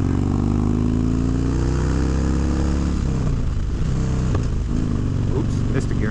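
A Harley-Davidson Dyna motorcycle engine drones loudly under the rider, rising in pitch, then dropping and clattering at a fumbled gear shift midway before pulling again.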